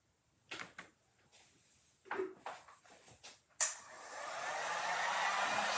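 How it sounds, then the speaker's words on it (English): A few handling knocks and rustles, then a hair dryer switches on and runs with a steady, rising whoosh while drying gold leaf on an ornament. "Dry it over here, so I'm gonna blow all the gold leaf around"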